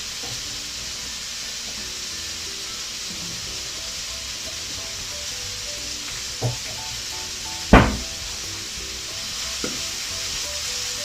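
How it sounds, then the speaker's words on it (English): Red onions with a little salt frying in a pan, a steady loud sizzle throughout, with a few sharp utensil clinks against the pan near the end. "you can put your red onions together. Also a little bit of salt."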